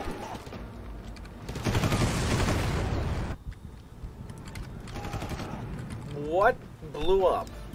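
Gunfire in the video game Far Cry: a dense burst of shots from roughly 1.5 to 3.3 seconds, then scattered quieter shots, with a voice talking briefly near the end.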